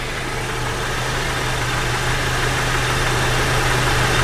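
A YJ Jeep engine idles steadily with its AC running while the system is charged, a constant low hum and rumble with no voices.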